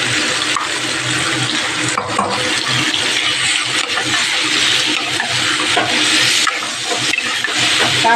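A paste of ginger, garlic, chilli and tomato, with cumin and coriander powder, fries in a pan for a pabda fish dish. A loud, dense, continuous sizzle and bubbling holds steady throughout, with no voices.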